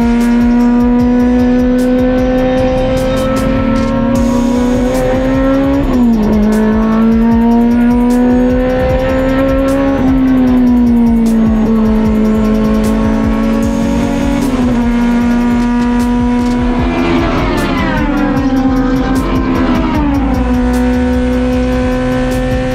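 Cars lapping the main circuit during a track day at Fuji Speedway, a loud sustained engine drone with gear changes and pitch dips, another car's engine rising past near the end, with no talking.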